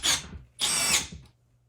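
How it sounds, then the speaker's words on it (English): A power drill drives screws into assembly brackets in two close bursts, each a loud high whir that winds down, the second longer and fading into a low hum. "Now I use a drill to install everything."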